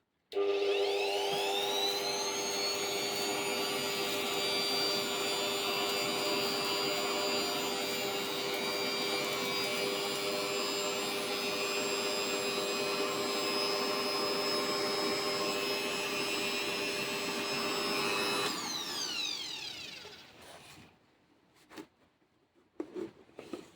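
An RZTK BL600E blower-vacuum runs at its lowest speed trying to suck up a strip of sawdust, a loud steady whine holding for about eighteen seconds before winding down, followed by a few faint knocks.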